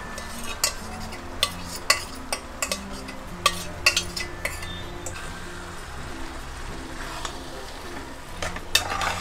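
Mushroom masala being stirred in a pan, dhaba style, with a steady close sizzle under repeated sharp scrapes and clinks of a spoon against the pan.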